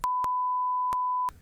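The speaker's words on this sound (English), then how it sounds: "There's going to be a lot of censor beeps here." A single sustained censor beep, a pure steady tone lasting over a second with clicks at its edges, loud and isolated.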